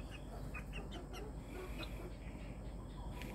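Chickens cluck and squawk in short, repeated calls over a steady, noisy background, fairly close by.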